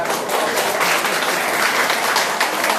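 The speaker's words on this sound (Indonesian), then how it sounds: "Kita tepuk tangan." An audience at an Indonesian reunion gathering in Yogyakarta claps loudly and steadily, a dense wash of many hands close by, with little else heard.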